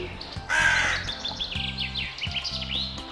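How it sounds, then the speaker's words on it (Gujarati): Harsh crow caws ring out several times in a row, loud and nearby, with other small bird chirps mixed in and a low tonal hum underneath. "એકવાર એક લુચ્ચો કાગડો આ પીપળાના ઝાડ પર રહેવા આવ્યો."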